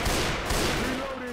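Dense gunfire from a Left 4 Dead co-op match, a continuous rattle of overlapping shots with a faint voice mixed in.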